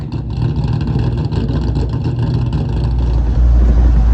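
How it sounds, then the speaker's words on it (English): A swapped engine in a 1996 Ford Mustang on its first test drive, a loud, steady low rumble close by that builds slightly toward the end, with no talking over it. "we're in the 96 Mustang. First test drive."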